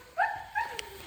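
A dog, protective of its yard, gives two short whining yelps close by, each rising then sliding down in pitch, followed by a faint click.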